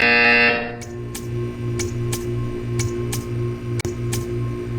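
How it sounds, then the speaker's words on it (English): Portal 2 test-chamber buzzer: a loud electronic buzz opens the clip and cuts off, followed by a run of sharp, evenly spaced ticks over a steady humming mechanical drone. "You will hear a buzzer."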